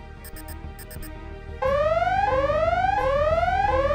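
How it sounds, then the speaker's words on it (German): A short cluster of electronic beeps gives way to a loud, rising cartoon bank alarm that sweeps upward repeatedly in a steady cycle. "Der Alarm."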